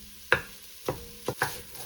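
Chopped peppers are stirred in a cooking pot with a few sharp scraping and clattering strokes, close and distinct over a faint background.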